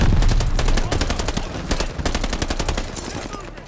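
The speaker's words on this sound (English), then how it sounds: "MG on that half track!" Sustained automatic gunfire from a half-track's machine gun in Call of Duty: Vanguard, a dense, loud rapid rattle of shots that runs through the whole battlefield stretch, with faint shouting mixed in.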